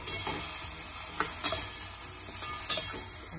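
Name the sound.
stirring spicy broccoli sizzling in a pan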